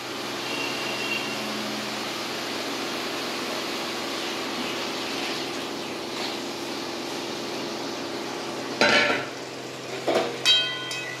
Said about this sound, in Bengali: এবার আমি এর মধ্যে সেদ্ধ করে রাখা যে চানা আর আলুটা রয়েছে সেইটা আমি এর মধ্যে দিয়ে দেব।